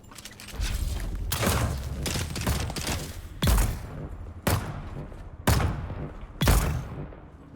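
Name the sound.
sniper rifle shots in the video game Dune Awakening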